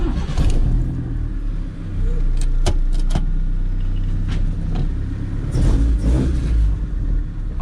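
Honda EF/CRX car engine turning over and running with uneven revving surges, close and loud, along with clicks and rattles nearby.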